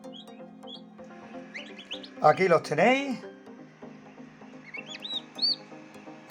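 Small high chirps from three newly hatched chicks in an automatic egg incubator, scattered and close, under a person speaking, with a louder burst of talk in the middle.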